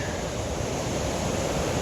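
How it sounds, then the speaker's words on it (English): Ocean waves at high tide wash up a sandy beach in a steady, unbroken roar, mixed with wind rumble on the microphone and no voices. "I don't get swept away from this waves coming up."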